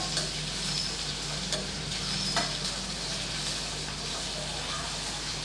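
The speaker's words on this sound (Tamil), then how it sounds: "ஒரு நிமிஷம் மட்டும் நம்ம வதக்கி விட்டால் போதும் வெள்ளரிக்காவை" Cucumber sautés in a pan with a soft sizzle while it is stirred, giving a few light scraping ticks. The sound is faint and continuous.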